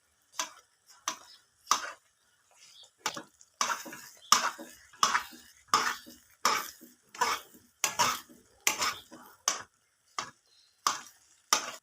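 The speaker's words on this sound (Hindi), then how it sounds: "और मसलसल मैं इसी तरह कफगीर को चला रही हूँ।" A ladle working thick makhdi halwa in a pot, a regular series of sharp scraping knocks against the metal, close and repeated roughly once a second with short gaps between strokes.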